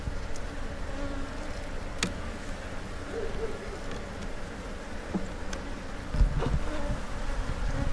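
Honey bees hum steadily inside an open brood box during a hive inspection, a continuous close drone with a few brief knocks and rustles, no talk.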